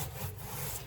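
A blade rocks through grasscloth wallpaper threads along crown molding, a faint, steady rasping and rubbing heard close up for about a second, with no talking.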